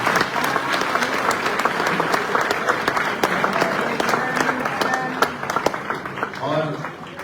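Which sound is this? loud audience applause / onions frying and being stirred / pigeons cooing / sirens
loud audience applause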